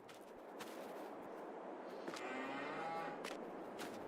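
A cow moos in the Farming Simulator 22 video game on the Fruehling farm map, one long low drawn-out call rising from a quiet farmyard background.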